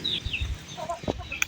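A chicken clucks in a few short, close bursts, with brief higher squawks and other faint background sounds around them.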